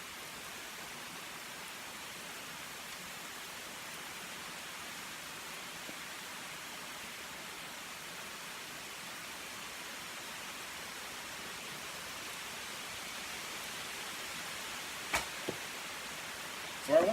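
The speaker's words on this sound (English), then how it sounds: "it's pouring." Heavy rain pours in an outdoor setting as a steady, even hiss that holds unbroken for the whole stretch, with a couple of faint brief knocks near the end.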